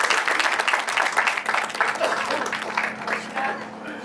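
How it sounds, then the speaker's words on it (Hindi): An audience applauds to welcome Professor Kusumlata Kedia as she comes up to speak, with a brief burst of clapping that tapers off. Voices are mixed in underneath. "बहुत जोरदार तालियों से स्वागत।"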